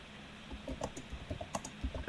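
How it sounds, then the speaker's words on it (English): Quick, uneven keystrokes on a computer keyboard, light clicks in short bursts, with a faint voice briefly audible under the tapping. "Pip is typing."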